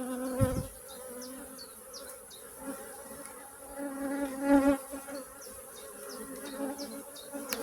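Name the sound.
agitated honeybee colony buzzing in open hive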